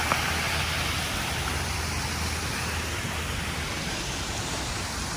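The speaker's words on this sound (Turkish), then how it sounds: "Şelale gibi sistem de yapmışlar havuza." Water from a waterfall-style feature pouring steadily into a pool, a constant broadband rushing hiss at close range with no breaks.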